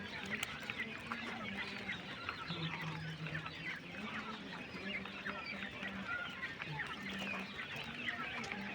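European white giant coturnix quails kept for sale on a small farm call in a busy, overlapping chorus of short, repeated chirps and clucks, fairly quiet, with a faint voice now and then.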